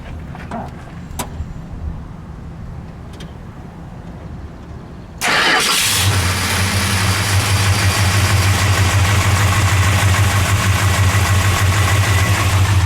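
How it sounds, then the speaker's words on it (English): A 1965 Dodge Coronet 500 convertible sits quietly with a few small clicks and handling sounds, then the engine cranks and catches with a sudden loud burst, settling into a steady, close, deep idle rumble. "Let's start it up, shall we? We'll let it idle."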